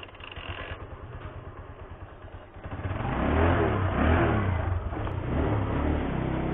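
An Apache RTR 160 motorcycle engine idles with a steady putter, then revs up loudly and pulls away as the ride starts, a close, sustained engine drone with rising and falling pitch.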